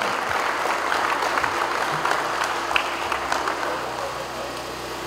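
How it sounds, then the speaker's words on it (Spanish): A crowd claps for a music band at a village festivity, without a pause, a dense and lively wash of hands that stays loud and even for several seconds. "Esos aplausos, muchachos, para la banda de música."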